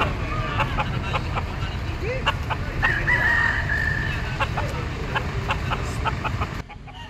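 Gilmore sweater gamefowl roosters cluck and crow at the Pasig pet market, one drawn-out crow rising clearly above steady crowd murmur and market background noise, while people talk nearby.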